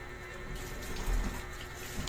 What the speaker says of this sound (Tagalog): Banlawan lang natin maigi para mawala yung shampoo.